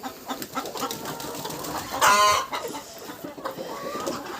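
A bearded rooster and hens cluck nearby in a yard, with scattered soft clucks and one louder squawking burst in the middle, no voices present.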